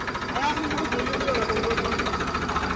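A tractor engine runs steadily at close range, a loud, even mechanical chugging with a rapid pulsing knock throughout.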